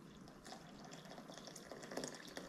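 Hot water is poured over tea leaves in a vessel to start kombucha, a faint, steady splashing and trickling pour lasting a couple of seconds.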